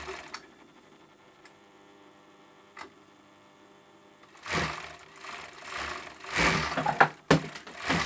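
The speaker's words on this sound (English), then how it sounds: "here I am overlocking the body up the side seam." An overlocker sewing up the side seam of a hoodie body, quiet ticking at first, then bursts of rapid mechanical whirring from the machine in the second half, close and uneven in loudness.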